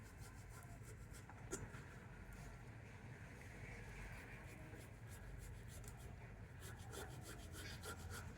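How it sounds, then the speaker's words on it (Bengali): Boiled potatoes worked against a kitchen grater, a continuous soft rasping scrape of repeated strokes heard up close, with a few sharper scratchy bursts toward the end and no speech. "তো এখন আমি এই আলু দুটোকে গ্রেটার দিয়ে গ্রেট করে নেব।"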